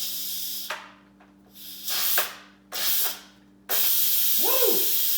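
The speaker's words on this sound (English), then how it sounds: "And now it's time to pop the release valve." A pressure cooker's release valve vents steam after cooking quinoa in loud hissing bursts, several sputtering blasts with gaps, then a sustained full-force hiss close by.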